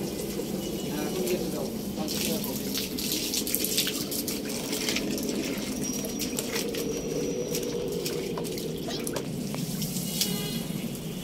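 Water sprayed from a hose pipe while washing a rack outdoors, a steady continuous hiss and splatter running throughout, with birds and faint voices in the background.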